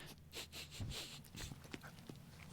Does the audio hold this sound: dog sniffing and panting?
yes